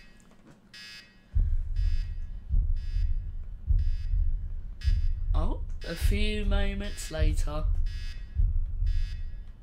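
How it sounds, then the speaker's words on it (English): An alarm beeps in a repeating pattern in the Roblox game The Hotel Experience, with regular pulses over a low rumbling hum and someone talking partway through. "That annoying beeping is still going on."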